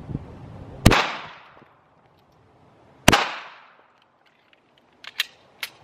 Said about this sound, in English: First it's gonna be the full metal jacket. The second shot is gonna be a hollow point.